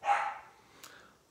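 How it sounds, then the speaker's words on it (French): A small dog barks once inside an apartment, a single faint bark that trails off in the room's quiet. "Il y a un petit chien dans l'appartement et il m'indique que c'est la fin de l'enregistrement."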